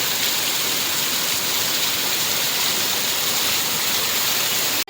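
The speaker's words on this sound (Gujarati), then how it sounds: "વહેલા 4 વાગ્યાનો એટલો વરસાદ છે મોવામાં." Heavy early-morning rain in Mahuva, a dense, loud, unbroken roar of falling water with no gaps, close and steady throughout before cutting off abruptly at the very end.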